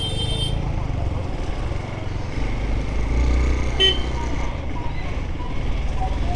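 Busy road traffic on the way to Kolli Hills, with a dense rumble of engines, motorcycles and cars and a few horn toots cutting through the steady roadside noise.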